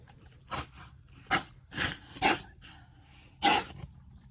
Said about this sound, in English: She's eating so fast she can't keep from choking herself.